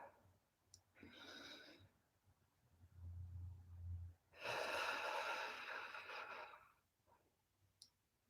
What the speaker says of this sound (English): I want to just take a quick, slow, deep breath.